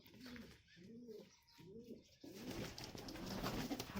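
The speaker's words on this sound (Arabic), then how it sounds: "حطيت غله كده للحمام وغيرت لهم الميه بتاعتهم" Pigeons coo in three soft, rolling phrases close by, then the cooing gives way to a busier wash of background noise.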